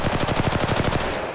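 Rapid automatic weapon fire in the mobile shooter Apex Legends Mobile, a steady burst of about a dozen evenly spaced close, loud shots that tails off at the end, with no talking.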